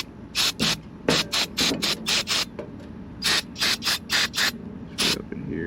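Carburetor cleaner sprayed from an aerosol can onto a Kawasaki FB460V carburetor, a series of short sharp hissing bursts in uneven clusters, close and clear with quiet gaps between.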